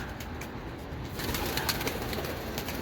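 Soft cooing from a male front-crested Turkish tumbler pigeon, a low murmuring call under a steady hiss of outdoor background noise, with no talk.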